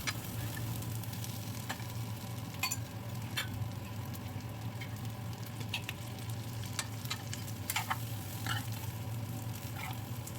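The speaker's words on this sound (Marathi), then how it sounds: "असं थोड्या थोड्या वेळाने भेंडी परतून घ्यायची आहे म्हणजे ती करपणार नाही आणि सर्व साईडने छान क्रिस्पी होईल" Stuffed okra fries in oil in a pan, giving a steady close sizzle with occasional light scraping clicks as it is stirred now and then; no talk.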